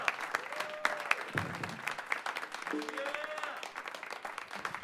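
Applause for a jazz band at a Friday jazz series show, scattered close claps with crowd chatter and cheering voices mixed in, moderately loud and uneven in rhythm.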